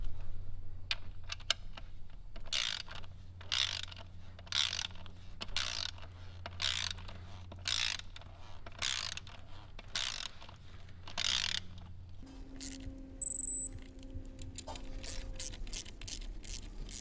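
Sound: ratchet tightening turbo kit bolts on a Mustang

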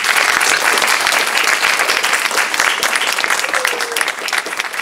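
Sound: audience applause at library presentation

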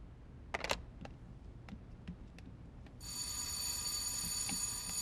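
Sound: doorbell ringing

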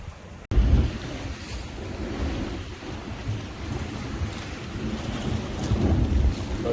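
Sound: sea waves and surf at the shore

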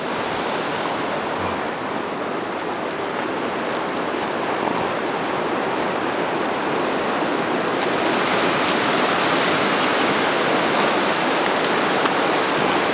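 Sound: creek water flowing

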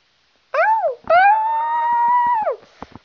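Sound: dog howling and whimpering

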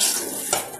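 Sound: stirring chicken biryani in a pot

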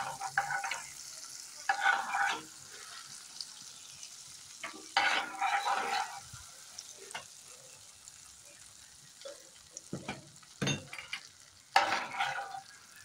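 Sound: butter melting and sizzling in a pan

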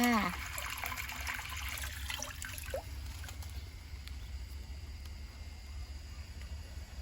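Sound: water flowing from a garden hose

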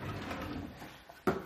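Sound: drawer opening to get a Tupperware container

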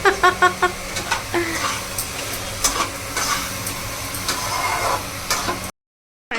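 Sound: curry cooking in a pan

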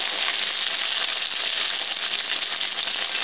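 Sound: wontons deep-frying in oil

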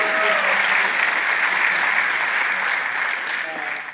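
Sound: audience clapping

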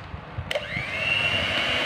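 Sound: electric mixer blending dragon fruit cake batter at low speed

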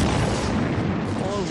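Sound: torpedoes hitting ships and explosions

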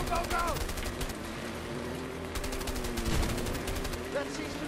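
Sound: gunfire in the video game A Way Out

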